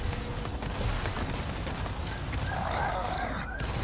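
Video game gunfire, a steady dense rattle of shots in a loud, noisy mix running throughout without clear pauses.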